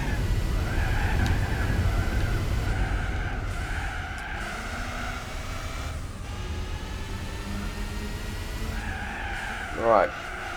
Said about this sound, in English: trying to drift doesn't really do anything in this game